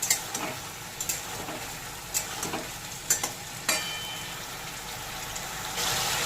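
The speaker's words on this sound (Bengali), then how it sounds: "আদা দিয়ে একটু নেড়ে একটু রান্না করে নেব" Ginger paste is stirred and fried with boiled vegetables in a pan for sukto, giving a low steady sizzle broken by several sharp spoon scrapes and clinks, close by with no one speaking.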